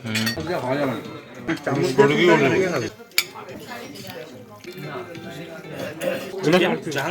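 Metal spoons clink and scrape against a pot as mutton biryani with potatoes is served and mixed at Karim's, with a voice talking throughout over the intermittent clatter.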